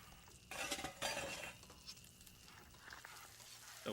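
Cooking noise with bright clinks and scrapes of utensils against pans, arriving in two loud bursts near the start and then settling into a softer, intermittent clatter with small knocks, close by and with no voices.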